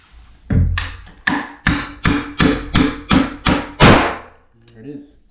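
A hammer strikes a nail about nine times in a steady rhythm during a bathroom wall remodel, each blow sharp and ringing, close by and loud.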